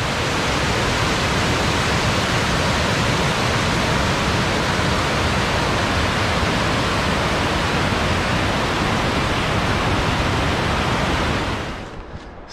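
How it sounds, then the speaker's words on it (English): Glacier runoff stream at Joffre Lakes near Pemberton, British Columbia rushes loudly and continuously close by, a dense broadband roar of water that fades slightly at the very end. "This is the glacier runoff."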